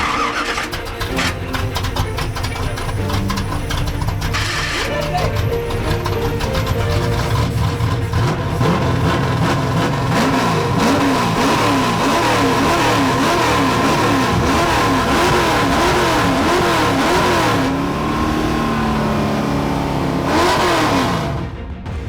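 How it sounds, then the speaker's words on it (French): A drag race car engine cranks and catches, then revs repeatedly in loud rising and falling surges before settling, close and continuous throughout, with no talking. "Le moteur a bien démarré, alors Pierre-Olivier peut participer"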